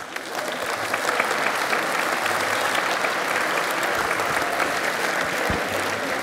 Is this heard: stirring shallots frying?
no